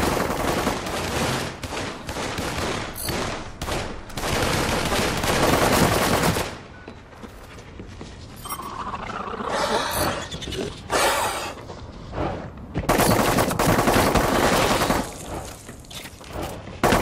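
Gunfire in the shooter game The Cycle, with dense bursts of automatic and rapid shots crowding the first six seconds, a quieter lull, then more loud volleys of shots and blasts near the end.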